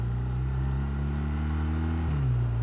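A 2019 BMW R1250R motorcycle engine drones steadily while engine braking on a narrow village road, a low humming note that drops in pitch near the end as the revs fall, with wind noise.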